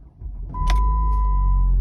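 A cheap diesel Jeep engine in limp mode settles into a quiet, steady low rumble close by, with a faint thin whine riding over it.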